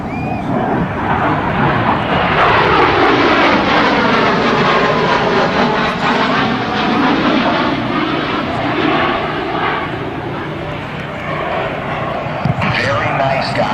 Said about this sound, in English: listen to how quiet the F414 engines by GE can be